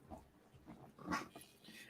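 A pet dog whimpers softly and close by in a short run of faint, whiny breaths and small cries.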